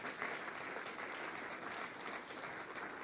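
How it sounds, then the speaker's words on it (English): An audience at a church summit plenary session keeps applauding, a steady even roar of many clapping hands heard from a distance and fairly faint. "Please keep clapping."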